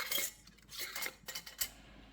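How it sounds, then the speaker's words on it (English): Metal canning lids set onto glass jars of seasoned dry beans, a quick run of light metallic clinks and taps against glass, several in close succession, nearby and without talk. "It's time to put our lids on."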